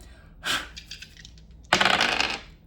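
Dice rolled during a tarot reading, giving a short rattle, a few light clicks, then a longer clattering tumble across a surface, close and fairly loud.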